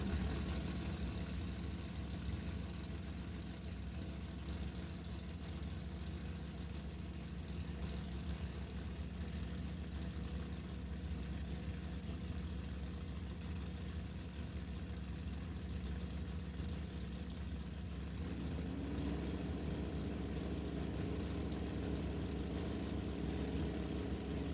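Drag racing cars, a Barracuda and a 1984 Cutlass, idling on the line at a raceway, a steady, loud, continuous engine rumble that holds throughout with a slight change in tone near the end.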